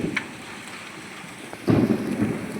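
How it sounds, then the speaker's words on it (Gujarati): Heavy rain with hail falls outdoors in a Gujarati village as a steady hiss of drops. A louder, denser burst of pelting starts partway through. "જો કરા પડે ને જોરદાર તમે જુઓ બધે ધોરા ધોરી ટપકી આ બધા બરફ છે મિત્રો કરાનો"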